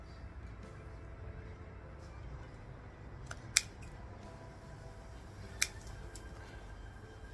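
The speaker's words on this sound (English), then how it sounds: "Just cut them a little bit shorter." Scissors cut small mosaic pieces for a 3D mixed media lily pad. Two faint, crisp snips, a couple of seconds apart, sit over a low, steady background hiss.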